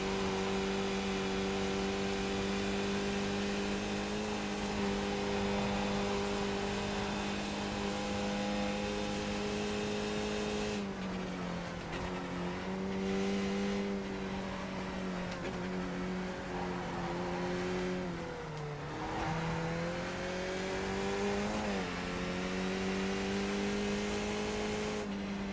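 Race car engines in the iRacing sim roar steadily and loudly, a sustained high drone whose pitch dips and climbs several times as the car shifts and accelerates, alone without talk.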